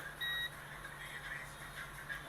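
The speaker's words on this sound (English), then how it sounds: "We have a beep sound from this to show that this one is okay." A multimeter sounds a continuity beep while a fuse taken from a donor circuit board is tested during a MacBook Pro 2012 no-power repair, a single short electronic tone over a quiet, hissy room.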